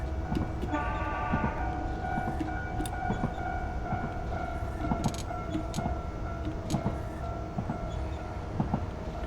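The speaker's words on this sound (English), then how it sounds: "I'll sound the horn just because it's a dark night." A JR West 105 Series local train runs through the dark on the Wakayama and Sakurai lines, its horn sounding a steady tone over the continuous rumble and rattle of the moving railcar.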